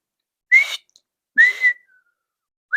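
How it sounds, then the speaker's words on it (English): Two short, clear whistles from a person, each rising slightly in pitch, separated by silence, with a third just starting at the end. "to his team, gave a whistle"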